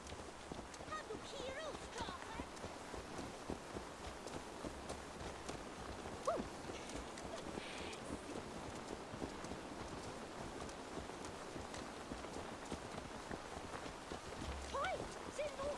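Horse hooves clip-clopping at a walk in the Assassin's Creed Valhalla video game, a steady, soft rhythm under game ambience and music with voices talking over it.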